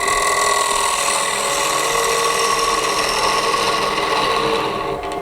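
Wood lathe spinning a workpiece while a gouge starts a cut with its tip, a loud, steady grinding whir with a dense ratcheting texture that runs unbroken throughout.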